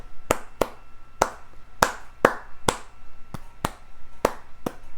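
Sharp hand claps in an irregular flamenco-style rhythm, about a dozen crisp strikes over a few seconds with uneven spacing, close and fairly loud against a faint background.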